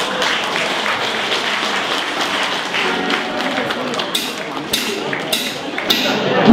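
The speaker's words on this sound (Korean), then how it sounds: "박수 부탁드리겠습니다" Wedding guests applaud in a steady, dense wash of clapping that carries on throughout, with a few brighter taps and clicks near the end.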